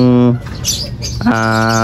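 Pigeons in a small training loft coo and call close by, two sustained harmonic calls framing a brief burst of rustling and chirps, loud and near.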